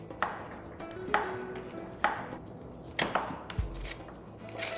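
Knife chops through red cabbage on a cutting board in sharp, separate strokes about once per second, close and fairly quiet, ending in a duller thud.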